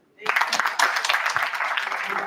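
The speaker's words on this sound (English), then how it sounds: "we clap hands for Mother Bird?" An audience bursts into sustained clapping for a storyteller called Mother Bird at a World Book Reading Day event, a dense and fairly close round of applause that starts abruptly and carries on under a speaking voice.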